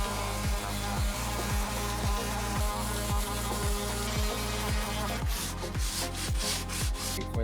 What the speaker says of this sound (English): for the rest of the frame, I'm gonna use a orbit sander and just do the center